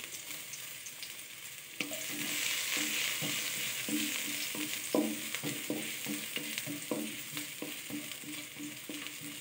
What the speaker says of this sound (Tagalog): Pan fry ko lang siya saglit. Bago ko lutuin. Yan. Bawang.